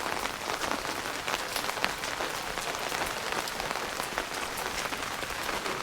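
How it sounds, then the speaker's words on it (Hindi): Heavy monsoon rain pours down in Mukteshwar, a dense, steady hiss of water striking surfaces, with scattered sharper drop ticks throughout and no voices. "बारिश बहुत ज्यादा हो रही है ना।"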